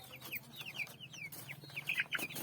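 Chickens feeding on grain cluck and squawk in quick, scattered bursts, fairly faint, with a low steady hum underneath.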